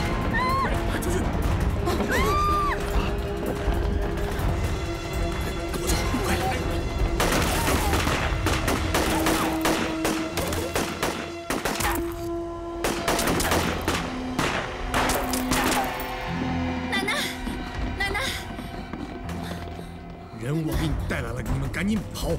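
Rapid gunfire crackles through a battle scene in an anti-Japanese war drama, bursts of overlapping shots and crashes mixed with loud shouting voices throughout.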